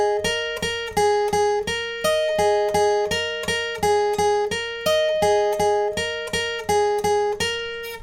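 Repeated on electric-toned guitar, a song's pre-chorus riff runs as a steady stream of quick picked notes shifting between a few pitches, looping evenly for several bars, close and solo.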